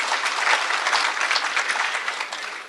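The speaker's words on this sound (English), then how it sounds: "Yeah, round of applause." A conference audience at the International Snowmobile Congress gives a round of applause: a dense, even wash of many hands clapping, steady and fairly loud, fading slightly at the end.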